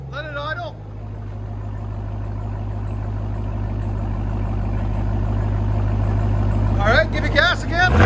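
A 2022 RAM TRX with a supercharged 6.2L Hemi V8 and dual exhaust with muffler delete, idling with a loud, steady, deep rumble close by while people talk briefly at the start and near the end.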